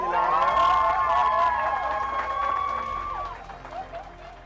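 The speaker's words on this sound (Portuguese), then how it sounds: "Forte aplauso para" A crowd cheers and claps for a colleague named employee of the month, with excited voices and shouting rising over the applause near the start, then easing off.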